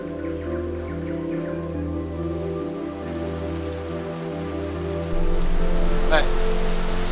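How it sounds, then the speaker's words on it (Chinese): Steady rain falls in an outdoor drama scene, a continuous soft hiss of drops on surfaces over a low droning hum, with the rain growing slightly louder near the end. "下雨了，先回去吧。"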